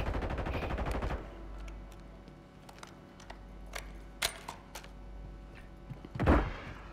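Automatic gunfire in a Call of Duty match: a dense rapid burst of shots in the opening second, then scattered single cracks and clanks, with one louder blast near the end, all at moderate level and without talk.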